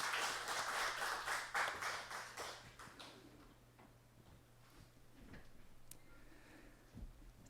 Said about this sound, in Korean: 우리 하나님 영광의 박수를 올려드립시다.